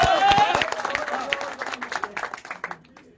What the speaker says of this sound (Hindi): ताली ताली दीजिए लाला जी का।